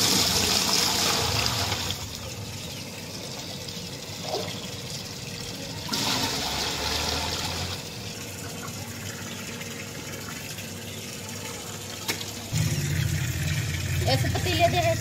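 Tap water running into containers in a village home, a steady gushing and splashing stream that stops and restarts, with pitch and tone shifting as different vessels fill, and a voice talking faintly at times.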